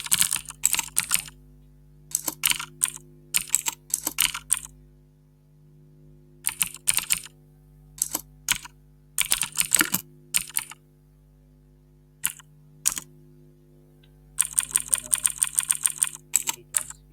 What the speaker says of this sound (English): Now we want to type in